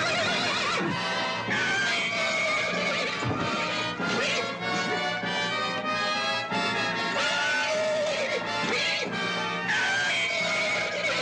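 A horse in a tense Old West standoff lets out whinnies amid a loud, dense wash of sound, with the neighs blending into the busy mix rather than standing alone.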